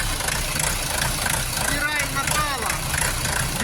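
A Shifeng 404 tractor's four-cylinder engine idles with a steady low rumble throughout, while someone talks over it and faint chirps rise in the background.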